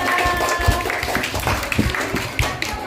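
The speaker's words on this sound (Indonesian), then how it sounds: "Tepuk tangan buat teman-teman kita." Children at a Christmas Sunday school service are applauded with scattered hand clapping from a small crowd, irregular taps and claps running throughout at moderate loudness, with a voice speaking over it.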